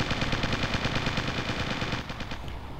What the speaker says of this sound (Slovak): Jasné, že vojak čo bol vnútri, keď vyjde von, tak začne strieľať.